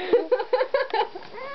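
A cat fitted with a new harness gives a rapid series of five or six short, nasal meows close by, followed by a fainter trailing cry.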